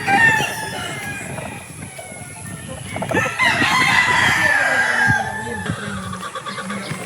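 A rooster on a gamefowl farm in Norzagaray, Bulacan, gives a loud, close crow that rises and holds in the middle, set among lighter clucks and farmyard background noise.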